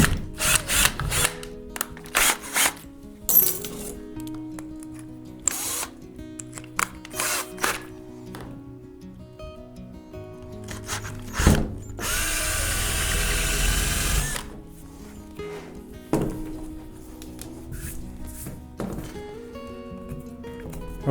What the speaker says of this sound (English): I'm going to drill a hole, and I'm going to run the coax through that hole.